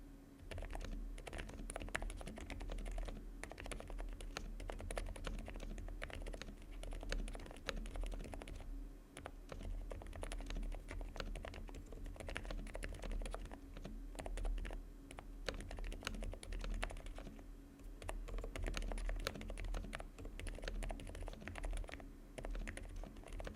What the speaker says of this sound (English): Here's a typing sound test